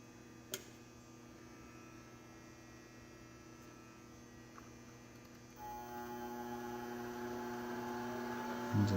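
A treadmill motor fitted to a drill press with variable speed runs as a low steady electric hum, rising in pitch and loudness partway through as the speed increases.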